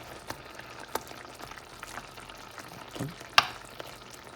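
Pork chops frying in a pan over medium heat, a soft low sizzle under occasional close clicks and scrapes of stirring.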